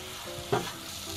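Egg frying in a pan for kottu dosa, a steady sizzle with one sharp scrape or tap of the stirring spoon midway, no talk.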